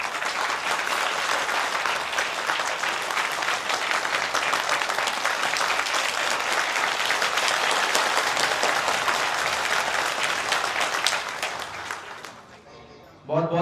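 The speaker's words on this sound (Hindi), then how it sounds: "एक बार जोरदार तालियों से।" Loud, sustained applause from a crowd at a gathering about Tukdoji Maharaj's Gram Geeta, a thick wash of clapping that runs unbroken for about eleven seconds, then fades and cuts off.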